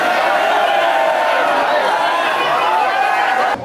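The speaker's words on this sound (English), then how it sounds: "the crowd's going crazy" Large festival crowd at an Ogoh-Ogoh parade in Denpasar, Bali, roaring and cheering steadily and loudly throughout with a dense mix of shouting voices, ending in a sudden drop.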